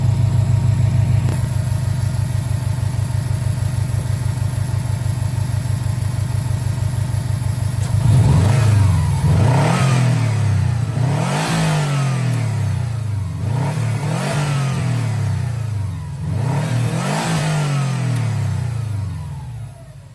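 2017 Subaru STI engine with a newly installed bypass valve, idling steadily for several seconds and then revved repeatedly in rising and falling surges, loud and close.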